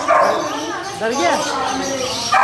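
A dog gives a few short yips and whimpers at a busy Sunday pet and bird market in Lahore, heard close by under steady crowd chatter and other voices.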